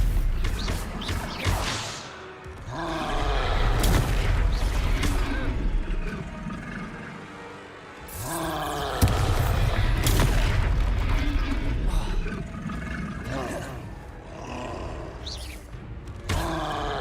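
Stupefy spell combat in the Hogwarts Legacy video game: loud booming spell impacts and roaring blasts in bursts, broken by grunts and brief pauses, with a voice speaking over the fighting.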